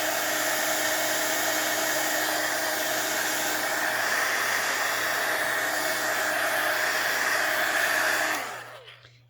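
A heat dryer runs steadily to dry a junk journal page, giving a loud, constant whooshing hum close to the mic that cuts off and fades out near the end.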